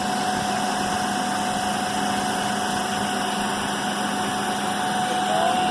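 A motor-generator set runs steadily during a Hopkinson back-to-back test, with the motor also being driven as a generator. It gives a continuous electrical hum with a steady whine and faint vibration, alone and unchanging throughout.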